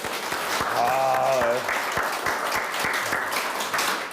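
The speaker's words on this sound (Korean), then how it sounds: "이 박수가 한번 끊기지를 않네요" Audience applause after a dental health lecture on implants and dentures in a TV studio, sustained dense clapping throughout, with a host's voice briefly over it.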